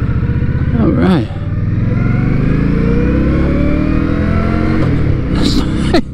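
An Indian motorcycle on a test ride along a country road, its engine droning loudly and steadily with a couple of rising revs, heard up close under wind noise.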